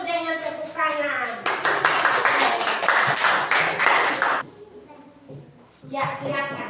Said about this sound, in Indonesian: Kita sambut kelompok 1 dengan tepuk tangan